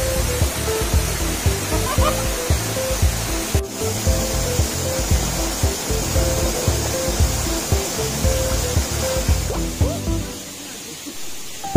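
Bugtong Bato Falls in Tibiao, Antique, roars with a constant, dense rush of falling water close by, a loud, unbroken hiss with rhythmic surges, while a voice speaks faintly beneath it.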